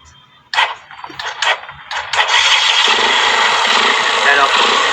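A Bajaj Rouser 135 motorcycle that stalls suddenly is cranked with several short sputtering bursts, then catches and settles into a loud, steady idle close by, with people talking over it.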